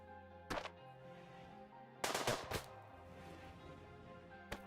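Guns fire in RimWorld as a few short, sharp bursts: one near the start, a cluster in the middle and a final shot at the end, fairly faint over a steady tonal backdrop.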